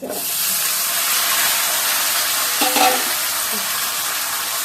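Potato pieces fry in hot oil tempered with fenugreek seeds, giving a loud, steady close-up sizzle with a brief scraping stir partway through.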